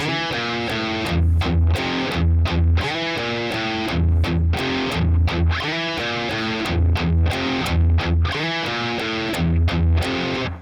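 Heavily distorted electric guitar chugs through the build-up riff, with palm-muted low notes and ringing chords in a tight repeating rhythm, loud and close with no voices.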